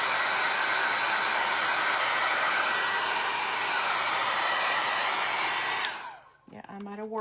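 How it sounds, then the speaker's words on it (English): A heat gun blows a loud, steady, close whooshing roar while drying decoupage on a vinyl record, then cuts off near the end, leaving a brief quiet with a faint voice. "you cannot get your heat gun too close"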